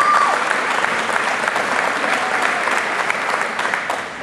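An audience at the opening of a Boys and Girls Club facility applauds, a loud, dense, sustained clapping that continues evenly from start to finish with no voice over it.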